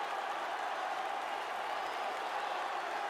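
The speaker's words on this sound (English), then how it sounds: "That crowd is in a frenzy at Yankee Stadium." Boxing crowd at Yankee Stadium roaring during a lightweight championship bout, a steady, dense wash of cheering and applause that stays loud and even throughout.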